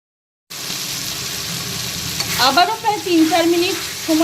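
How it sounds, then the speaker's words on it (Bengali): Cumin, tomato and onion masala sautéing in a pan over low to medium heat for a topse fish and potato curry, giving a steady loud sizzle with louder stirring scrapes in the second half. "এবার জিরেটাকেও ভালো করে একটু কষিয়ে নেব"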